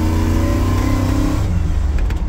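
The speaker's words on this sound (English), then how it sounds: "Rusty, I thought I'd send you a video of your truck running." A 1977 Ford F150 with a fuel-injected 460 V8, stage 2 cam and C6 three-speed automatic runs close and loud with a lumpy idle rumble, rising briefly before settling back.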